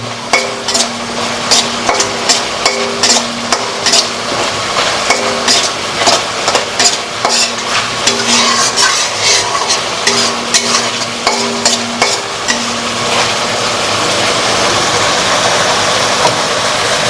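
Bengali mung dal being tempered with spices and dry chilli powder sizzles loudly in a pan, while a utensil scrapes and knocks in a steady rhythm before the frying settles into a continuous hiss.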